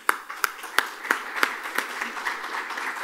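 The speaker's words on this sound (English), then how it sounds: "So I think a big round of applause." An audience at a technology conference starts with a few sharp, spaced claps that quickly fill in to become continuous, moderately loud applause.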